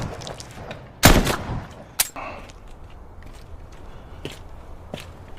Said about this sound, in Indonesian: Hyun-soo langsung menembak Seon dan juga membunuh Jae-ho di sana.